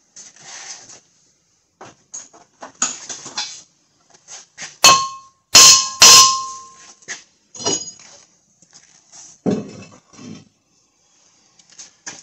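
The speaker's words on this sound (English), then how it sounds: "Next, we gotta hammer on the rotor a little bit." Scattered metallic clanks and a few sharp ringing hammer strikes on a 2008 Buick Lucerne front brake rotor, irregular and close, with quiet gaps between them.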